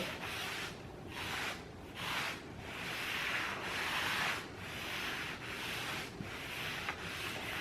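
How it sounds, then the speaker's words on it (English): A soft applicator pad rubs gel stain back and forth into wood in steady, even strokes, a close, continuous scuffing that swells and eases roughly once a second, heard alone with no voices. "And I'm just Going back and forth, making sure it's even. Rubbing it into the wood."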